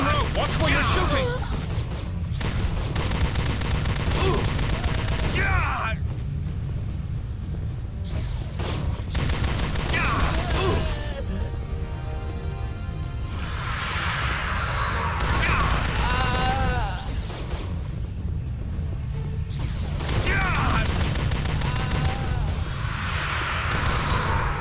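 Sustained gunfire in the sci-fi shooter Star Trek Elite Force II, rapid shots, blasts and booms layered over a dense game soundscape, with voices speaking intermittently throughout the loud, continuous action.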